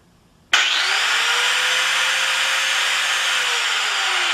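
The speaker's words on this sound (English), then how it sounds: "Angle grinder is a very strong and dangerous tool." An angle grinder starts abruptly and runs loud and steady for about four seconds, a harsh high whine that never lets up.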